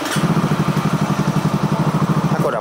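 A Honda CBR motorcycle with about 800 km on it, started by remote, idles close by with a steady, even engine pulse and no voices over it.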